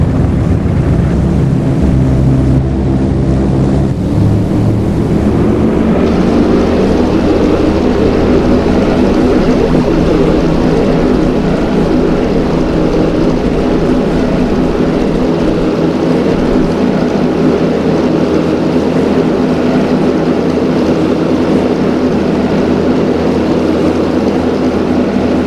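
Two Bristol Hercules 14-cylinder radial engines of a Bristol Beaufighter running up in Flight Simulator X, a loud sustained droning roar that swells after the first few seconds and holds steady throughout, with no talking.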